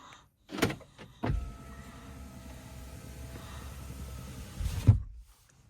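Power windows on an Opel Astra H close by key fob, a steady electric motor whine running for several seconds between clunks at the start and a firm thump as the glass seats.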